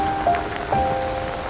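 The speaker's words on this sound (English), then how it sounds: "Rain." Rain falling steadily on surfaces outdoors on a rainy day near campus buildings, a continuous patter with a few sharper drop impacts and a faint tonal hum underneath.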